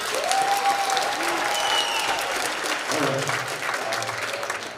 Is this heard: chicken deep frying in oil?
no